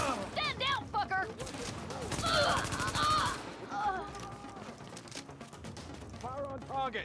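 Rapid video game gunfire in a squad shooter crackles in bursts through the middle stretch, mixed under a busy bed of in-game voices giving commands and radio chatter.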